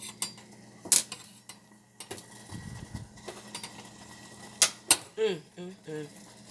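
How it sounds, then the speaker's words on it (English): A metal spoon clinks and scrapes against a pot of homemade venison deer meat chili, with a few sharp taps and rattles close by. A voice speaks briefly near the end. "let me get y'all a good spoon of it up so you can see how good that's looking"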